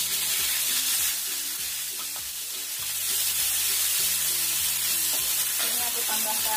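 Ground spice paste sizzles hard as it hits about two tablespoons of hot oil in a pan, a loud, steady frying hiss with repeated scraping stir strokes, close up and alone.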